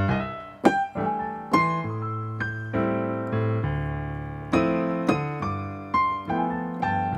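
Piano plays a cocktail jazz exercise of steady eighth notes over sustained bass chords, struck notes ringing in an even rhythm, close and alone without talking.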